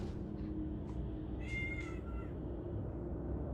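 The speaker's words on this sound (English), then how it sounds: "That did sound like a cat." A cat meows a few times, short high calls rising above a steady low background hum and noise, moderately close.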